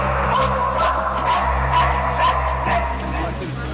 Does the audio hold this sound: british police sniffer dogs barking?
yes